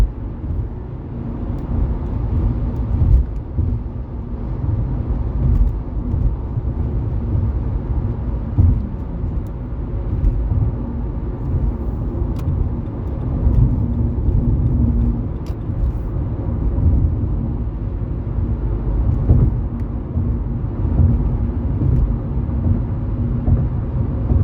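A car rides over bumpy roads from Center City to Northeast Philadelphia, with a continuous low road rumble and tire noise broken by frequent small thumps and jolts throughout.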